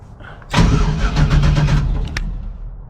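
A starter motor cranks an engine after a short pause, and the engine catches almost at once into a loud, close, rough idle that settles and fades slightly.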